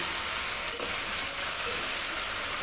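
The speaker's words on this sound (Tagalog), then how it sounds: "Bali, naggisa lang ng sibuyas." Onion, snake meat and potatoes sauté in a hot pan, a steady broadband sizzle running the whole time with a couple of faint stirring knocks, close and fairly loud, no voices.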